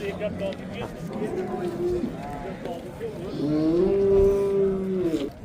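A cow moos in long, drawn-out lows at a livestock market in Qiziriq, Surxondaryo, one near and loud toward the end, with a person speaking in the background.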